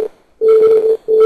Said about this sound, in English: you'll hear an echo effect when I move this